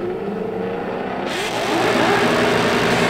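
Drag racing cars, including an '88 Mustang, idle and rumble while staging at an NMRA/NMCA final round, then the engine note swells louder as revs rise partway through.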